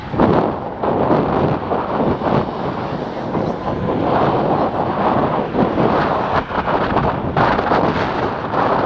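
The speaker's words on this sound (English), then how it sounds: "The wind is not helping me." Wind buffets the microphone of a moving cyclist, a loud, continuous rumbling roar with gusty swells that fills the whole stretch. No speech is heard over it.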